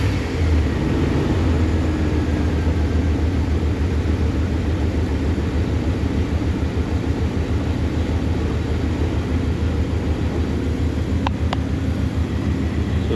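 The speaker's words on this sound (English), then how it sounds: "So it's still idling pretty smooth." A Dodge Ram truck with a 5.9L engine idles steadily, a loud continuous low rumble with an even throb heard up close, one or two faint clicks near the end and no talking.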